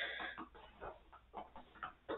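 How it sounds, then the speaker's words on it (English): Excited clucking and squawking from chickens in quick, agitated bursts, fairly faint and a little distant, with no talking. "chick fight, little chicken fight, chickadee fight"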